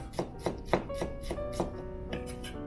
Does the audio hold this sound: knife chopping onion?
yes